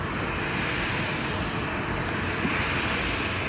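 A fixed-wing airliner at Montego Bay airport in Jamaica roars steadily with a broad, loud engine rumble, close by and continuous throughout, with no talk.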